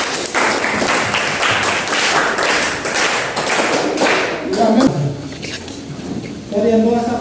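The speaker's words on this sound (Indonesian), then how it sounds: "kita tepuk tangan" Audience clapping during a vocational school presentation session, a steady wash of applause for several seconds with voices talking over it toward the end.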